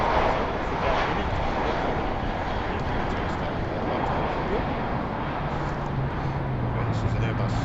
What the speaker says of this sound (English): This is an Airbus 320 going all the way to Copenhagen.